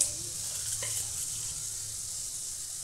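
Cumin seeds sizzle in a few ladles of hot oil for sabudana khichadi, a steady close frying hiss with a brief clink partway through and no talk.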